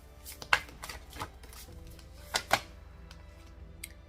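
Cards being shuffled in a few quick riffling bursts, with sharp papery clicks and flutters, close by and fairly quiet.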